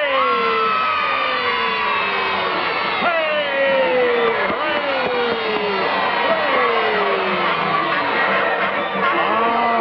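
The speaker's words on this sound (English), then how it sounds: "All the Howdy Doody supporters, cheer and raise your right arm." Children cheering for Howdy Doody in a 1952 television show, a loud continuous crowd of young voices shouting and whooping in rising and falling chants.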